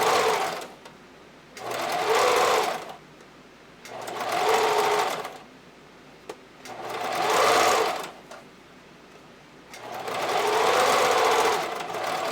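Domestic sewing machine stitching a back tack on fold-over elastic for a bra, four steady whirring runs of about a second or more each, separated by quiet pauses, close and clear with no talk.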